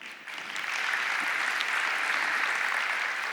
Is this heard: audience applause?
yes